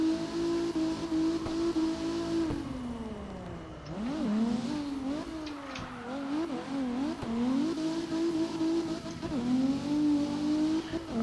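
A BMW E36 drifting in the video game CarX Drift Online, a loud engine note that wobbles up and down with throttle blips through the slide alongside tire squeal, steady throughout with no talking.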